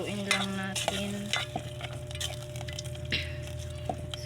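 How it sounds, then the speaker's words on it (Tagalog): Food frying in a pan is stirred at midday in a home kitchen, giving steady close scraping and clinking over a constant sizzle, with no voices. "Haluin lang natin."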